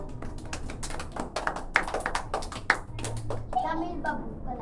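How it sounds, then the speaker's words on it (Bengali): A group of children at a biscuit-eating game clap their hands for the winner in a quick, uneven burst of close claps, with children's voices and chatter mixed in. "সবাই একটা হাততালি দাও।"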